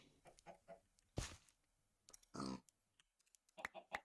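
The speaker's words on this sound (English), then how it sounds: "I wonder where they got the chicken sound from." Chicken clucks from a Minecraft-style survival game, a few short clucks and clicks scattered among quiet game noises, close and clear.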